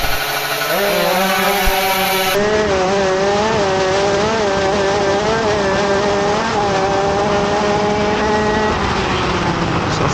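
Two-stroke Yamaha RXZ and Yamaha Catalyzer 50 motorcycles in an open-class drag race, a loud, high buzzing two-stroke wail that climbs and holds through the gears without a break.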